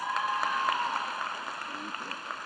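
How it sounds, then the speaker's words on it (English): Modest applause at a BCIT winter convocation ceremony, a diffuse patter of clapping from the audience that stays fairly even and moderately quiet before thinning slightly toward the end. "Let's give him a round of applause."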